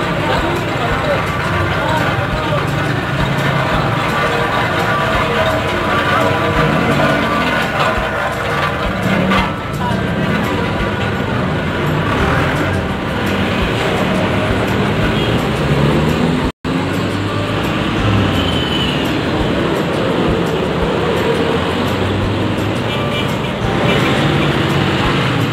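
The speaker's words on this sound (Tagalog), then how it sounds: "Grabe ang traffic, guys!" Heavy road traffic fills the air with a dense, continuous wash of idling engines and street noise, broken by one brief silent cut midway.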